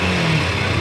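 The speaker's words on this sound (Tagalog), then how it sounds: "Ito yung tunog ng knocking," Motorcycle engine, a Rusi 135 or Honda NS150 with a damaged connecting rod and cylinder block, revving close and loud in a brief dense roar.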